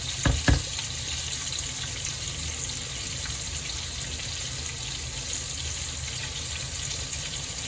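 Fish sizzles steadily in a hot frying pan, a dense, even hiss that fills the whole stretch after two sharp clacks at the start, with no voices.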